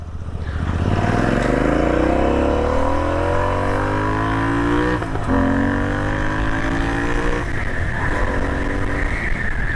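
A 155cc single-cylinder motorcycle engine revs hard while being ridden, its pitch climbing through the gears with brief dips at each shift and a loud, close engine note throughout.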